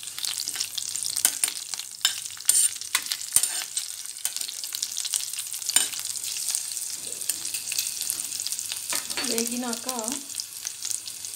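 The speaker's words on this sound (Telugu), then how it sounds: "కొంచెం వేగనియండి లైట్గా." Green chillies and a dry red chilli sizzle and crackle in hot oil in a pan, a steady frying hiss with occasional stirring clatter and a brief spoken word near the end.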